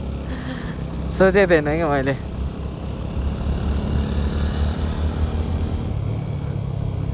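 A TVS Apache RTR 200 4V motorcycle being ridden gives a steady, low engine rumble throughout, with someone talking briefly over it near the start.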